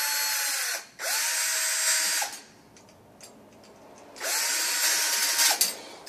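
A power tool snugs up the nuts during an electric water heater installation, with two close whirring bursts of about a second each separated by a quiet pause.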